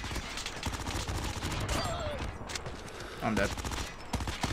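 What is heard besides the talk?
gunfire in the video game Call of Duty Mobile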